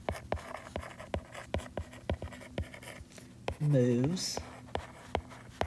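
A marker tapping and scratching on a board in a steady, rhythmic series of short strokes, continuing under a brief spoken word from a teacher.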